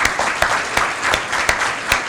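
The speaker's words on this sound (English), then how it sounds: "Let's give them a nice round of applause" An audience at a women's awards event claps together in a full, continuous burst of applause, with several louder individual claps standing out near the listener.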